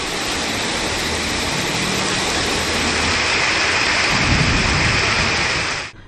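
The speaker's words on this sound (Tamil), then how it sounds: "நேற்று கனமழை பெய்தது" Heavy rain pours steadily in Chennai with thunder rumbling low underneath, a loud dense roar that holds throughout before cutting off abruptly at the end.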